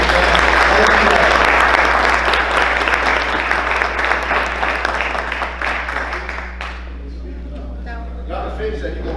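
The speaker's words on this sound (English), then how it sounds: "let's give them a round of applause" An audience applauds warmly at a county schools state of education address, a thick wash of clapping that thins out after about six seconds. A hum sits underneath, and speech follows as the applause fades.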